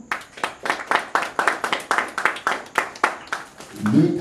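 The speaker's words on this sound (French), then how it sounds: "Encore pour madame, on applaudit toujours." A small group claps at a reception in a quick, even rhythm of about a dozen sharp, close claps, fading into a low murmur at the end.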